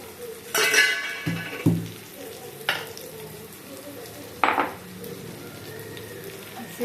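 Brinjal fries in oil in a pan, village-style vankaya fry, with a steady low sizzle broken by several sharp stirring scrapes and clinks of a spoon against the pan.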